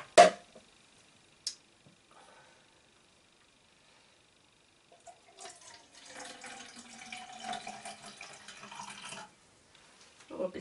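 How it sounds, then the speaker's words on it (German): Water, about 100 grams, poured into a can for moussaka, a soft trickling splash in the second half, preceded by a few knocks and clinks in a quiet kitchen. "da werde ich jetzt 100 Gramm Wasser noch in die Dose hineingeben"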